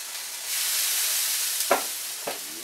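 Hot cooking oil sizzles steadily in a pan, a constant bright hiss that swells in and holds, broken near the end by two sharper spitting crackles, with no talking over it.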